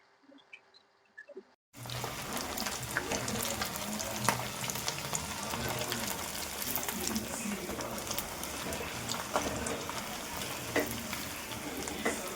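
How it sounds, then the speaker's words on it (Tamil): Beef pakoda, Kerala style, deep frying in hot oil: a steady, dense bubbling sizzle that starts abruptly after a short silence and holds at an even level throughout. "ஃப்ரை ஆயிடுச்சு, நம்ம எடுத்துடலாம்."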